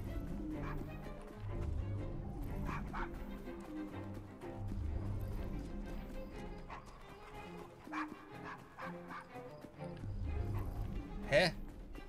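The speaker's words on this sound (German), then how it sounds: "Feines Hundchen." A dog barks a few times in the video game Assassin's Creed Syndicate, set against steady game ambience, footsteps and clip-clopping hooves, with a voice talking over much of it.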